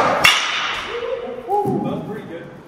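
A 33-inch Stinger Missile 2 BBCOR baseball bat cracks sharply against a ball in a single loud, brief impact, followed by a lingering metallic ring and faint background voices.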